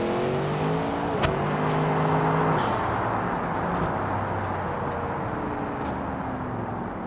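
A drag car engine rising in pitch as it accelerates, heard at a distance with a steady rolling roar and a few sharp clicks, with no talking.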